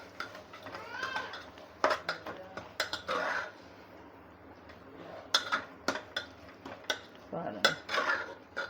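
Marinated mutton keema being mixed in a pan, with irregular metallic clinks, taps and scrapes of a spoon against the vessel, some in quick bursts, over a quiet background.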